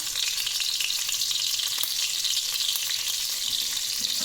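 Panch phoron spices and chilies sizzling in hot mixed white and mustard oil, a loud, steady, close frying hiss that fills the whole stretch with no voices.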